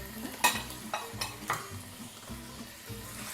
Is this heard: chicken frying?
yes